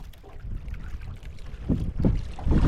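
Strong wind at sea buffets a microphone in low rumbling gusts, with water sloshing against a small fishing boat nearby.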